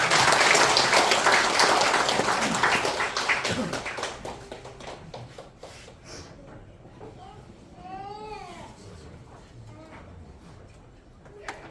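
A church congregation at a Sunday morning service claps loudly for the first few seconds, then the applause fades into quieter room noise, scattered taps and a voice.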